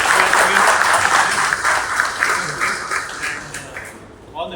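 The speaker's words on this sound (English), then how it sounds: "Big round of applause to everybody." Corporate audience applauding at an SAP cloud go-live event, a full burst of clapping that starts loud and gradually tapers off, ending with a brief voice.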